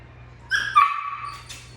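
A dog whines with a short high-pitched whimper during leash obedience training, close and fairly clear over a low steady hum.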